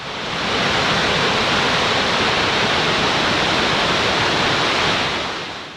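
The Nile thunders through the narrow gorge at Murchison Falls, a loud, steady, broadband roar of rushing water that fades in and holds constant throughout, with no voices.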